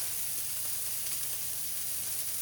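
Swedish meatballs sizzle in a cast iron pan on a gas stove, a steady, even frying hiss heard close and alone, with no talking.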